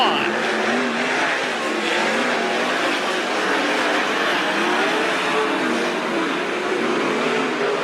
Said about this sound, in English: Greg Wilson now moves into the final transfer spot with 3 laps remaining in heat race number 1